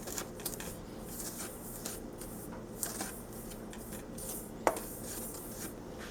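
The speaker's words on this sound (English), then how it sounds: "I'm going to use my wooden spoon and mix in the dry ingredients" A wooden spoon stirs flour, sugar, baking powder and salt together in a bowl. Soft, close scraping strokes repeat quietly, with one sharper knock partway through.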